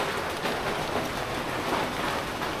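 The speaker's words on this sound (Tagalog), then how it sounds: "Bigla lang talaga siya nag-ulan." A sudden rain shower pours down, a dense, even hiss of drops that stays steady and close throughout with no other sounds.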